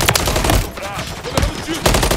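Rapid automatic gunfire in Call of Duty: Modern Warfare 3 multiplayer on the Rust map, with loud close bursts of shots and sharp cracks, and a player's voice shouting between them.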